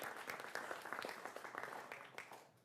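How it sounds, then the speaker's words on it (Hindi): A television studio audience at a political debate show applauds newly introduced guests, a brief faint patter of many hands clapping together with a murmur beneath. "जोरदार तालियों से इनका भी अभिनंदन करिए।"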